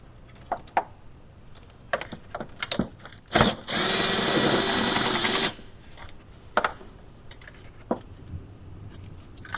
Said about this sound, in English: Now we can come in with our 10mm socket and cordless drill